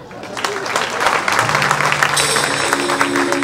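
An audience claps for comedian Shakeel Siddiqui at the Arts Council in Karachi, a thick, lively stretch of applause with some tonal sounds and voices mixed in.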